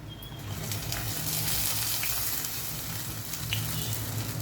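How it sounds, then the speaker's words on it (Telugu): Urad dal vadas (garelu) sizzle in hot oil, a steady close crackle and bubbling that continues throughout, with faint clinks now and then. "ఇంకో వాయి గారె వేసుకొని మళ్ళీ మెల్లిగా వేగనివ్వాలి"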